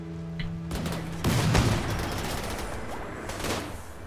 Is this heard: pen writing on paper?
no